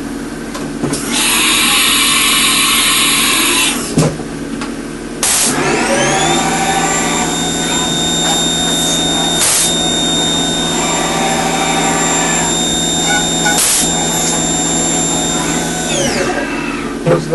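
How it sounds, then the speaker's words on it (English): HAAS TM-1P CNC mill center drilling holes for a sign: a loud, continuous machine whir and hiss with steady tonal hums. Brief pauses and spindle changes recur as the mill moves between holes. "Center drill a few holes."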